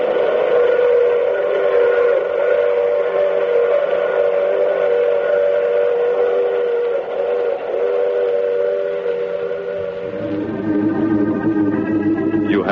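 A steam train runs steadily in a radio drama sound effect, its chugging rumble under a sustained multi-tone whistle that holds for a long stretch and then shifts to a higher, brighter blast near the end.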